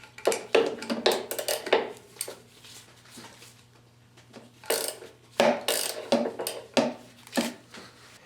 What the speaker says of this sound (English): And loosen the second 12mm fastener.